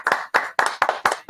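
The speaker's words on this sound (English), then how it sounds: "We're gonna get a round of applause." Several hands clap in a short, uneven burst, five or six sharp claps close by in quick rhythm, a small round of applause around a table at the start of a podcast.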